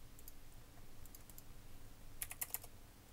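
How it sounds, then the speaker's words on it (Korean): A short burst of computer keyboard typing during a modelling software session, a quick cluster of close, sharp clicks near the end over a quiet room hum. "뭐 이렇게 그냥 타이핑 할 수 있어요."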